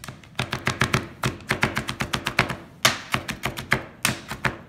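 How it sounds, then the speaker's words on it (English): A knife chops jalapeno and garlic at close range in quick, fairly even strokes, a series of crisp taps against the board with short pauses between bursts. "So chop that up along with the garlic."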